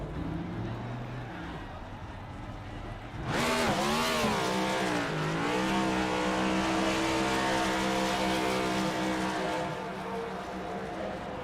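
Race car burnout at the Brickyard, Indianapolis Motor Speedway, in a racing game: an engine idles, then abruptly screams into a loud sustained rev with squealing tires that rises and wavers through the rest.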